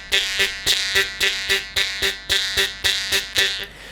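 Jaw harp played with beatboxing and only a little breath behind it, giving a steady twangy buzz with a quick regular rhythmic pulse of about three beats per second, close and clear with no talking.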